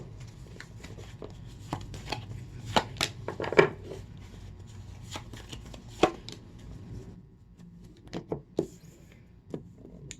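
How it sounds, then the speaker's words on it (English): Tarot cards being shuffled and handled during a reading, bursts of riffling and soft slaps with scattered sharp taps over a low room hum, no talk. "let me pull a few more tarot cards"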